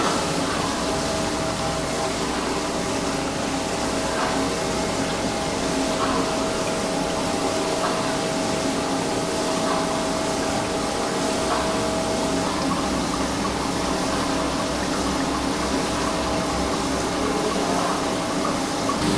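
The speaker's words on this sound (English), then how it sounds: "this machine is a magnetic separator for weak" A high gradient magnetic separator running while it processes manganese ore, a continuous loud mechanical whir and hum with a steady industrial drone, heard close throughout.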